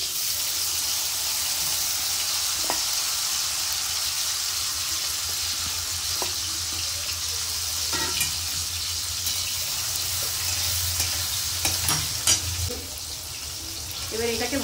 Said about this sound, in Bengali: এবার এটাকে ভালো করে একটু ভেজে নেব